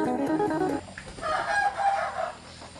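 Chickens on a rural Thai farm cluck and call close by, with a strained crow-like cry at the start followed by softer clucking, and no talking.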